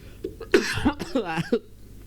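A few harsh coughs and throat-clearing bursts come in quick succession, close and loud, with no talking.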